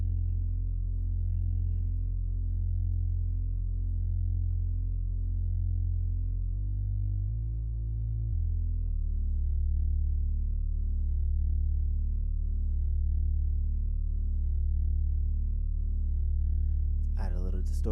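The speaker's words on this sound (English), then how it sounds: "distortion, make it a little crunchy." A sustained, buzzy Moog-style bass synth tone built in Reaktor with a gritty distorted edge, changing pitch a few times and holding long notes, loud and alone.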